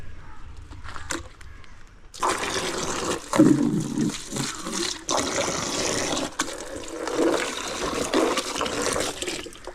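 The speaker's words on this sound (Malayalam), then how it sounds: "കുറച്ച് വെള്ളം നനച്ചിട്ട് ഇതിൽ വെച്ചേക്കാം." Water splashes and trickles over a potted waterlily plant, starting after a quiet opening with a few knocks, then pouring in uneven bursts of gushing and dribbling that rise and fall for several seconds.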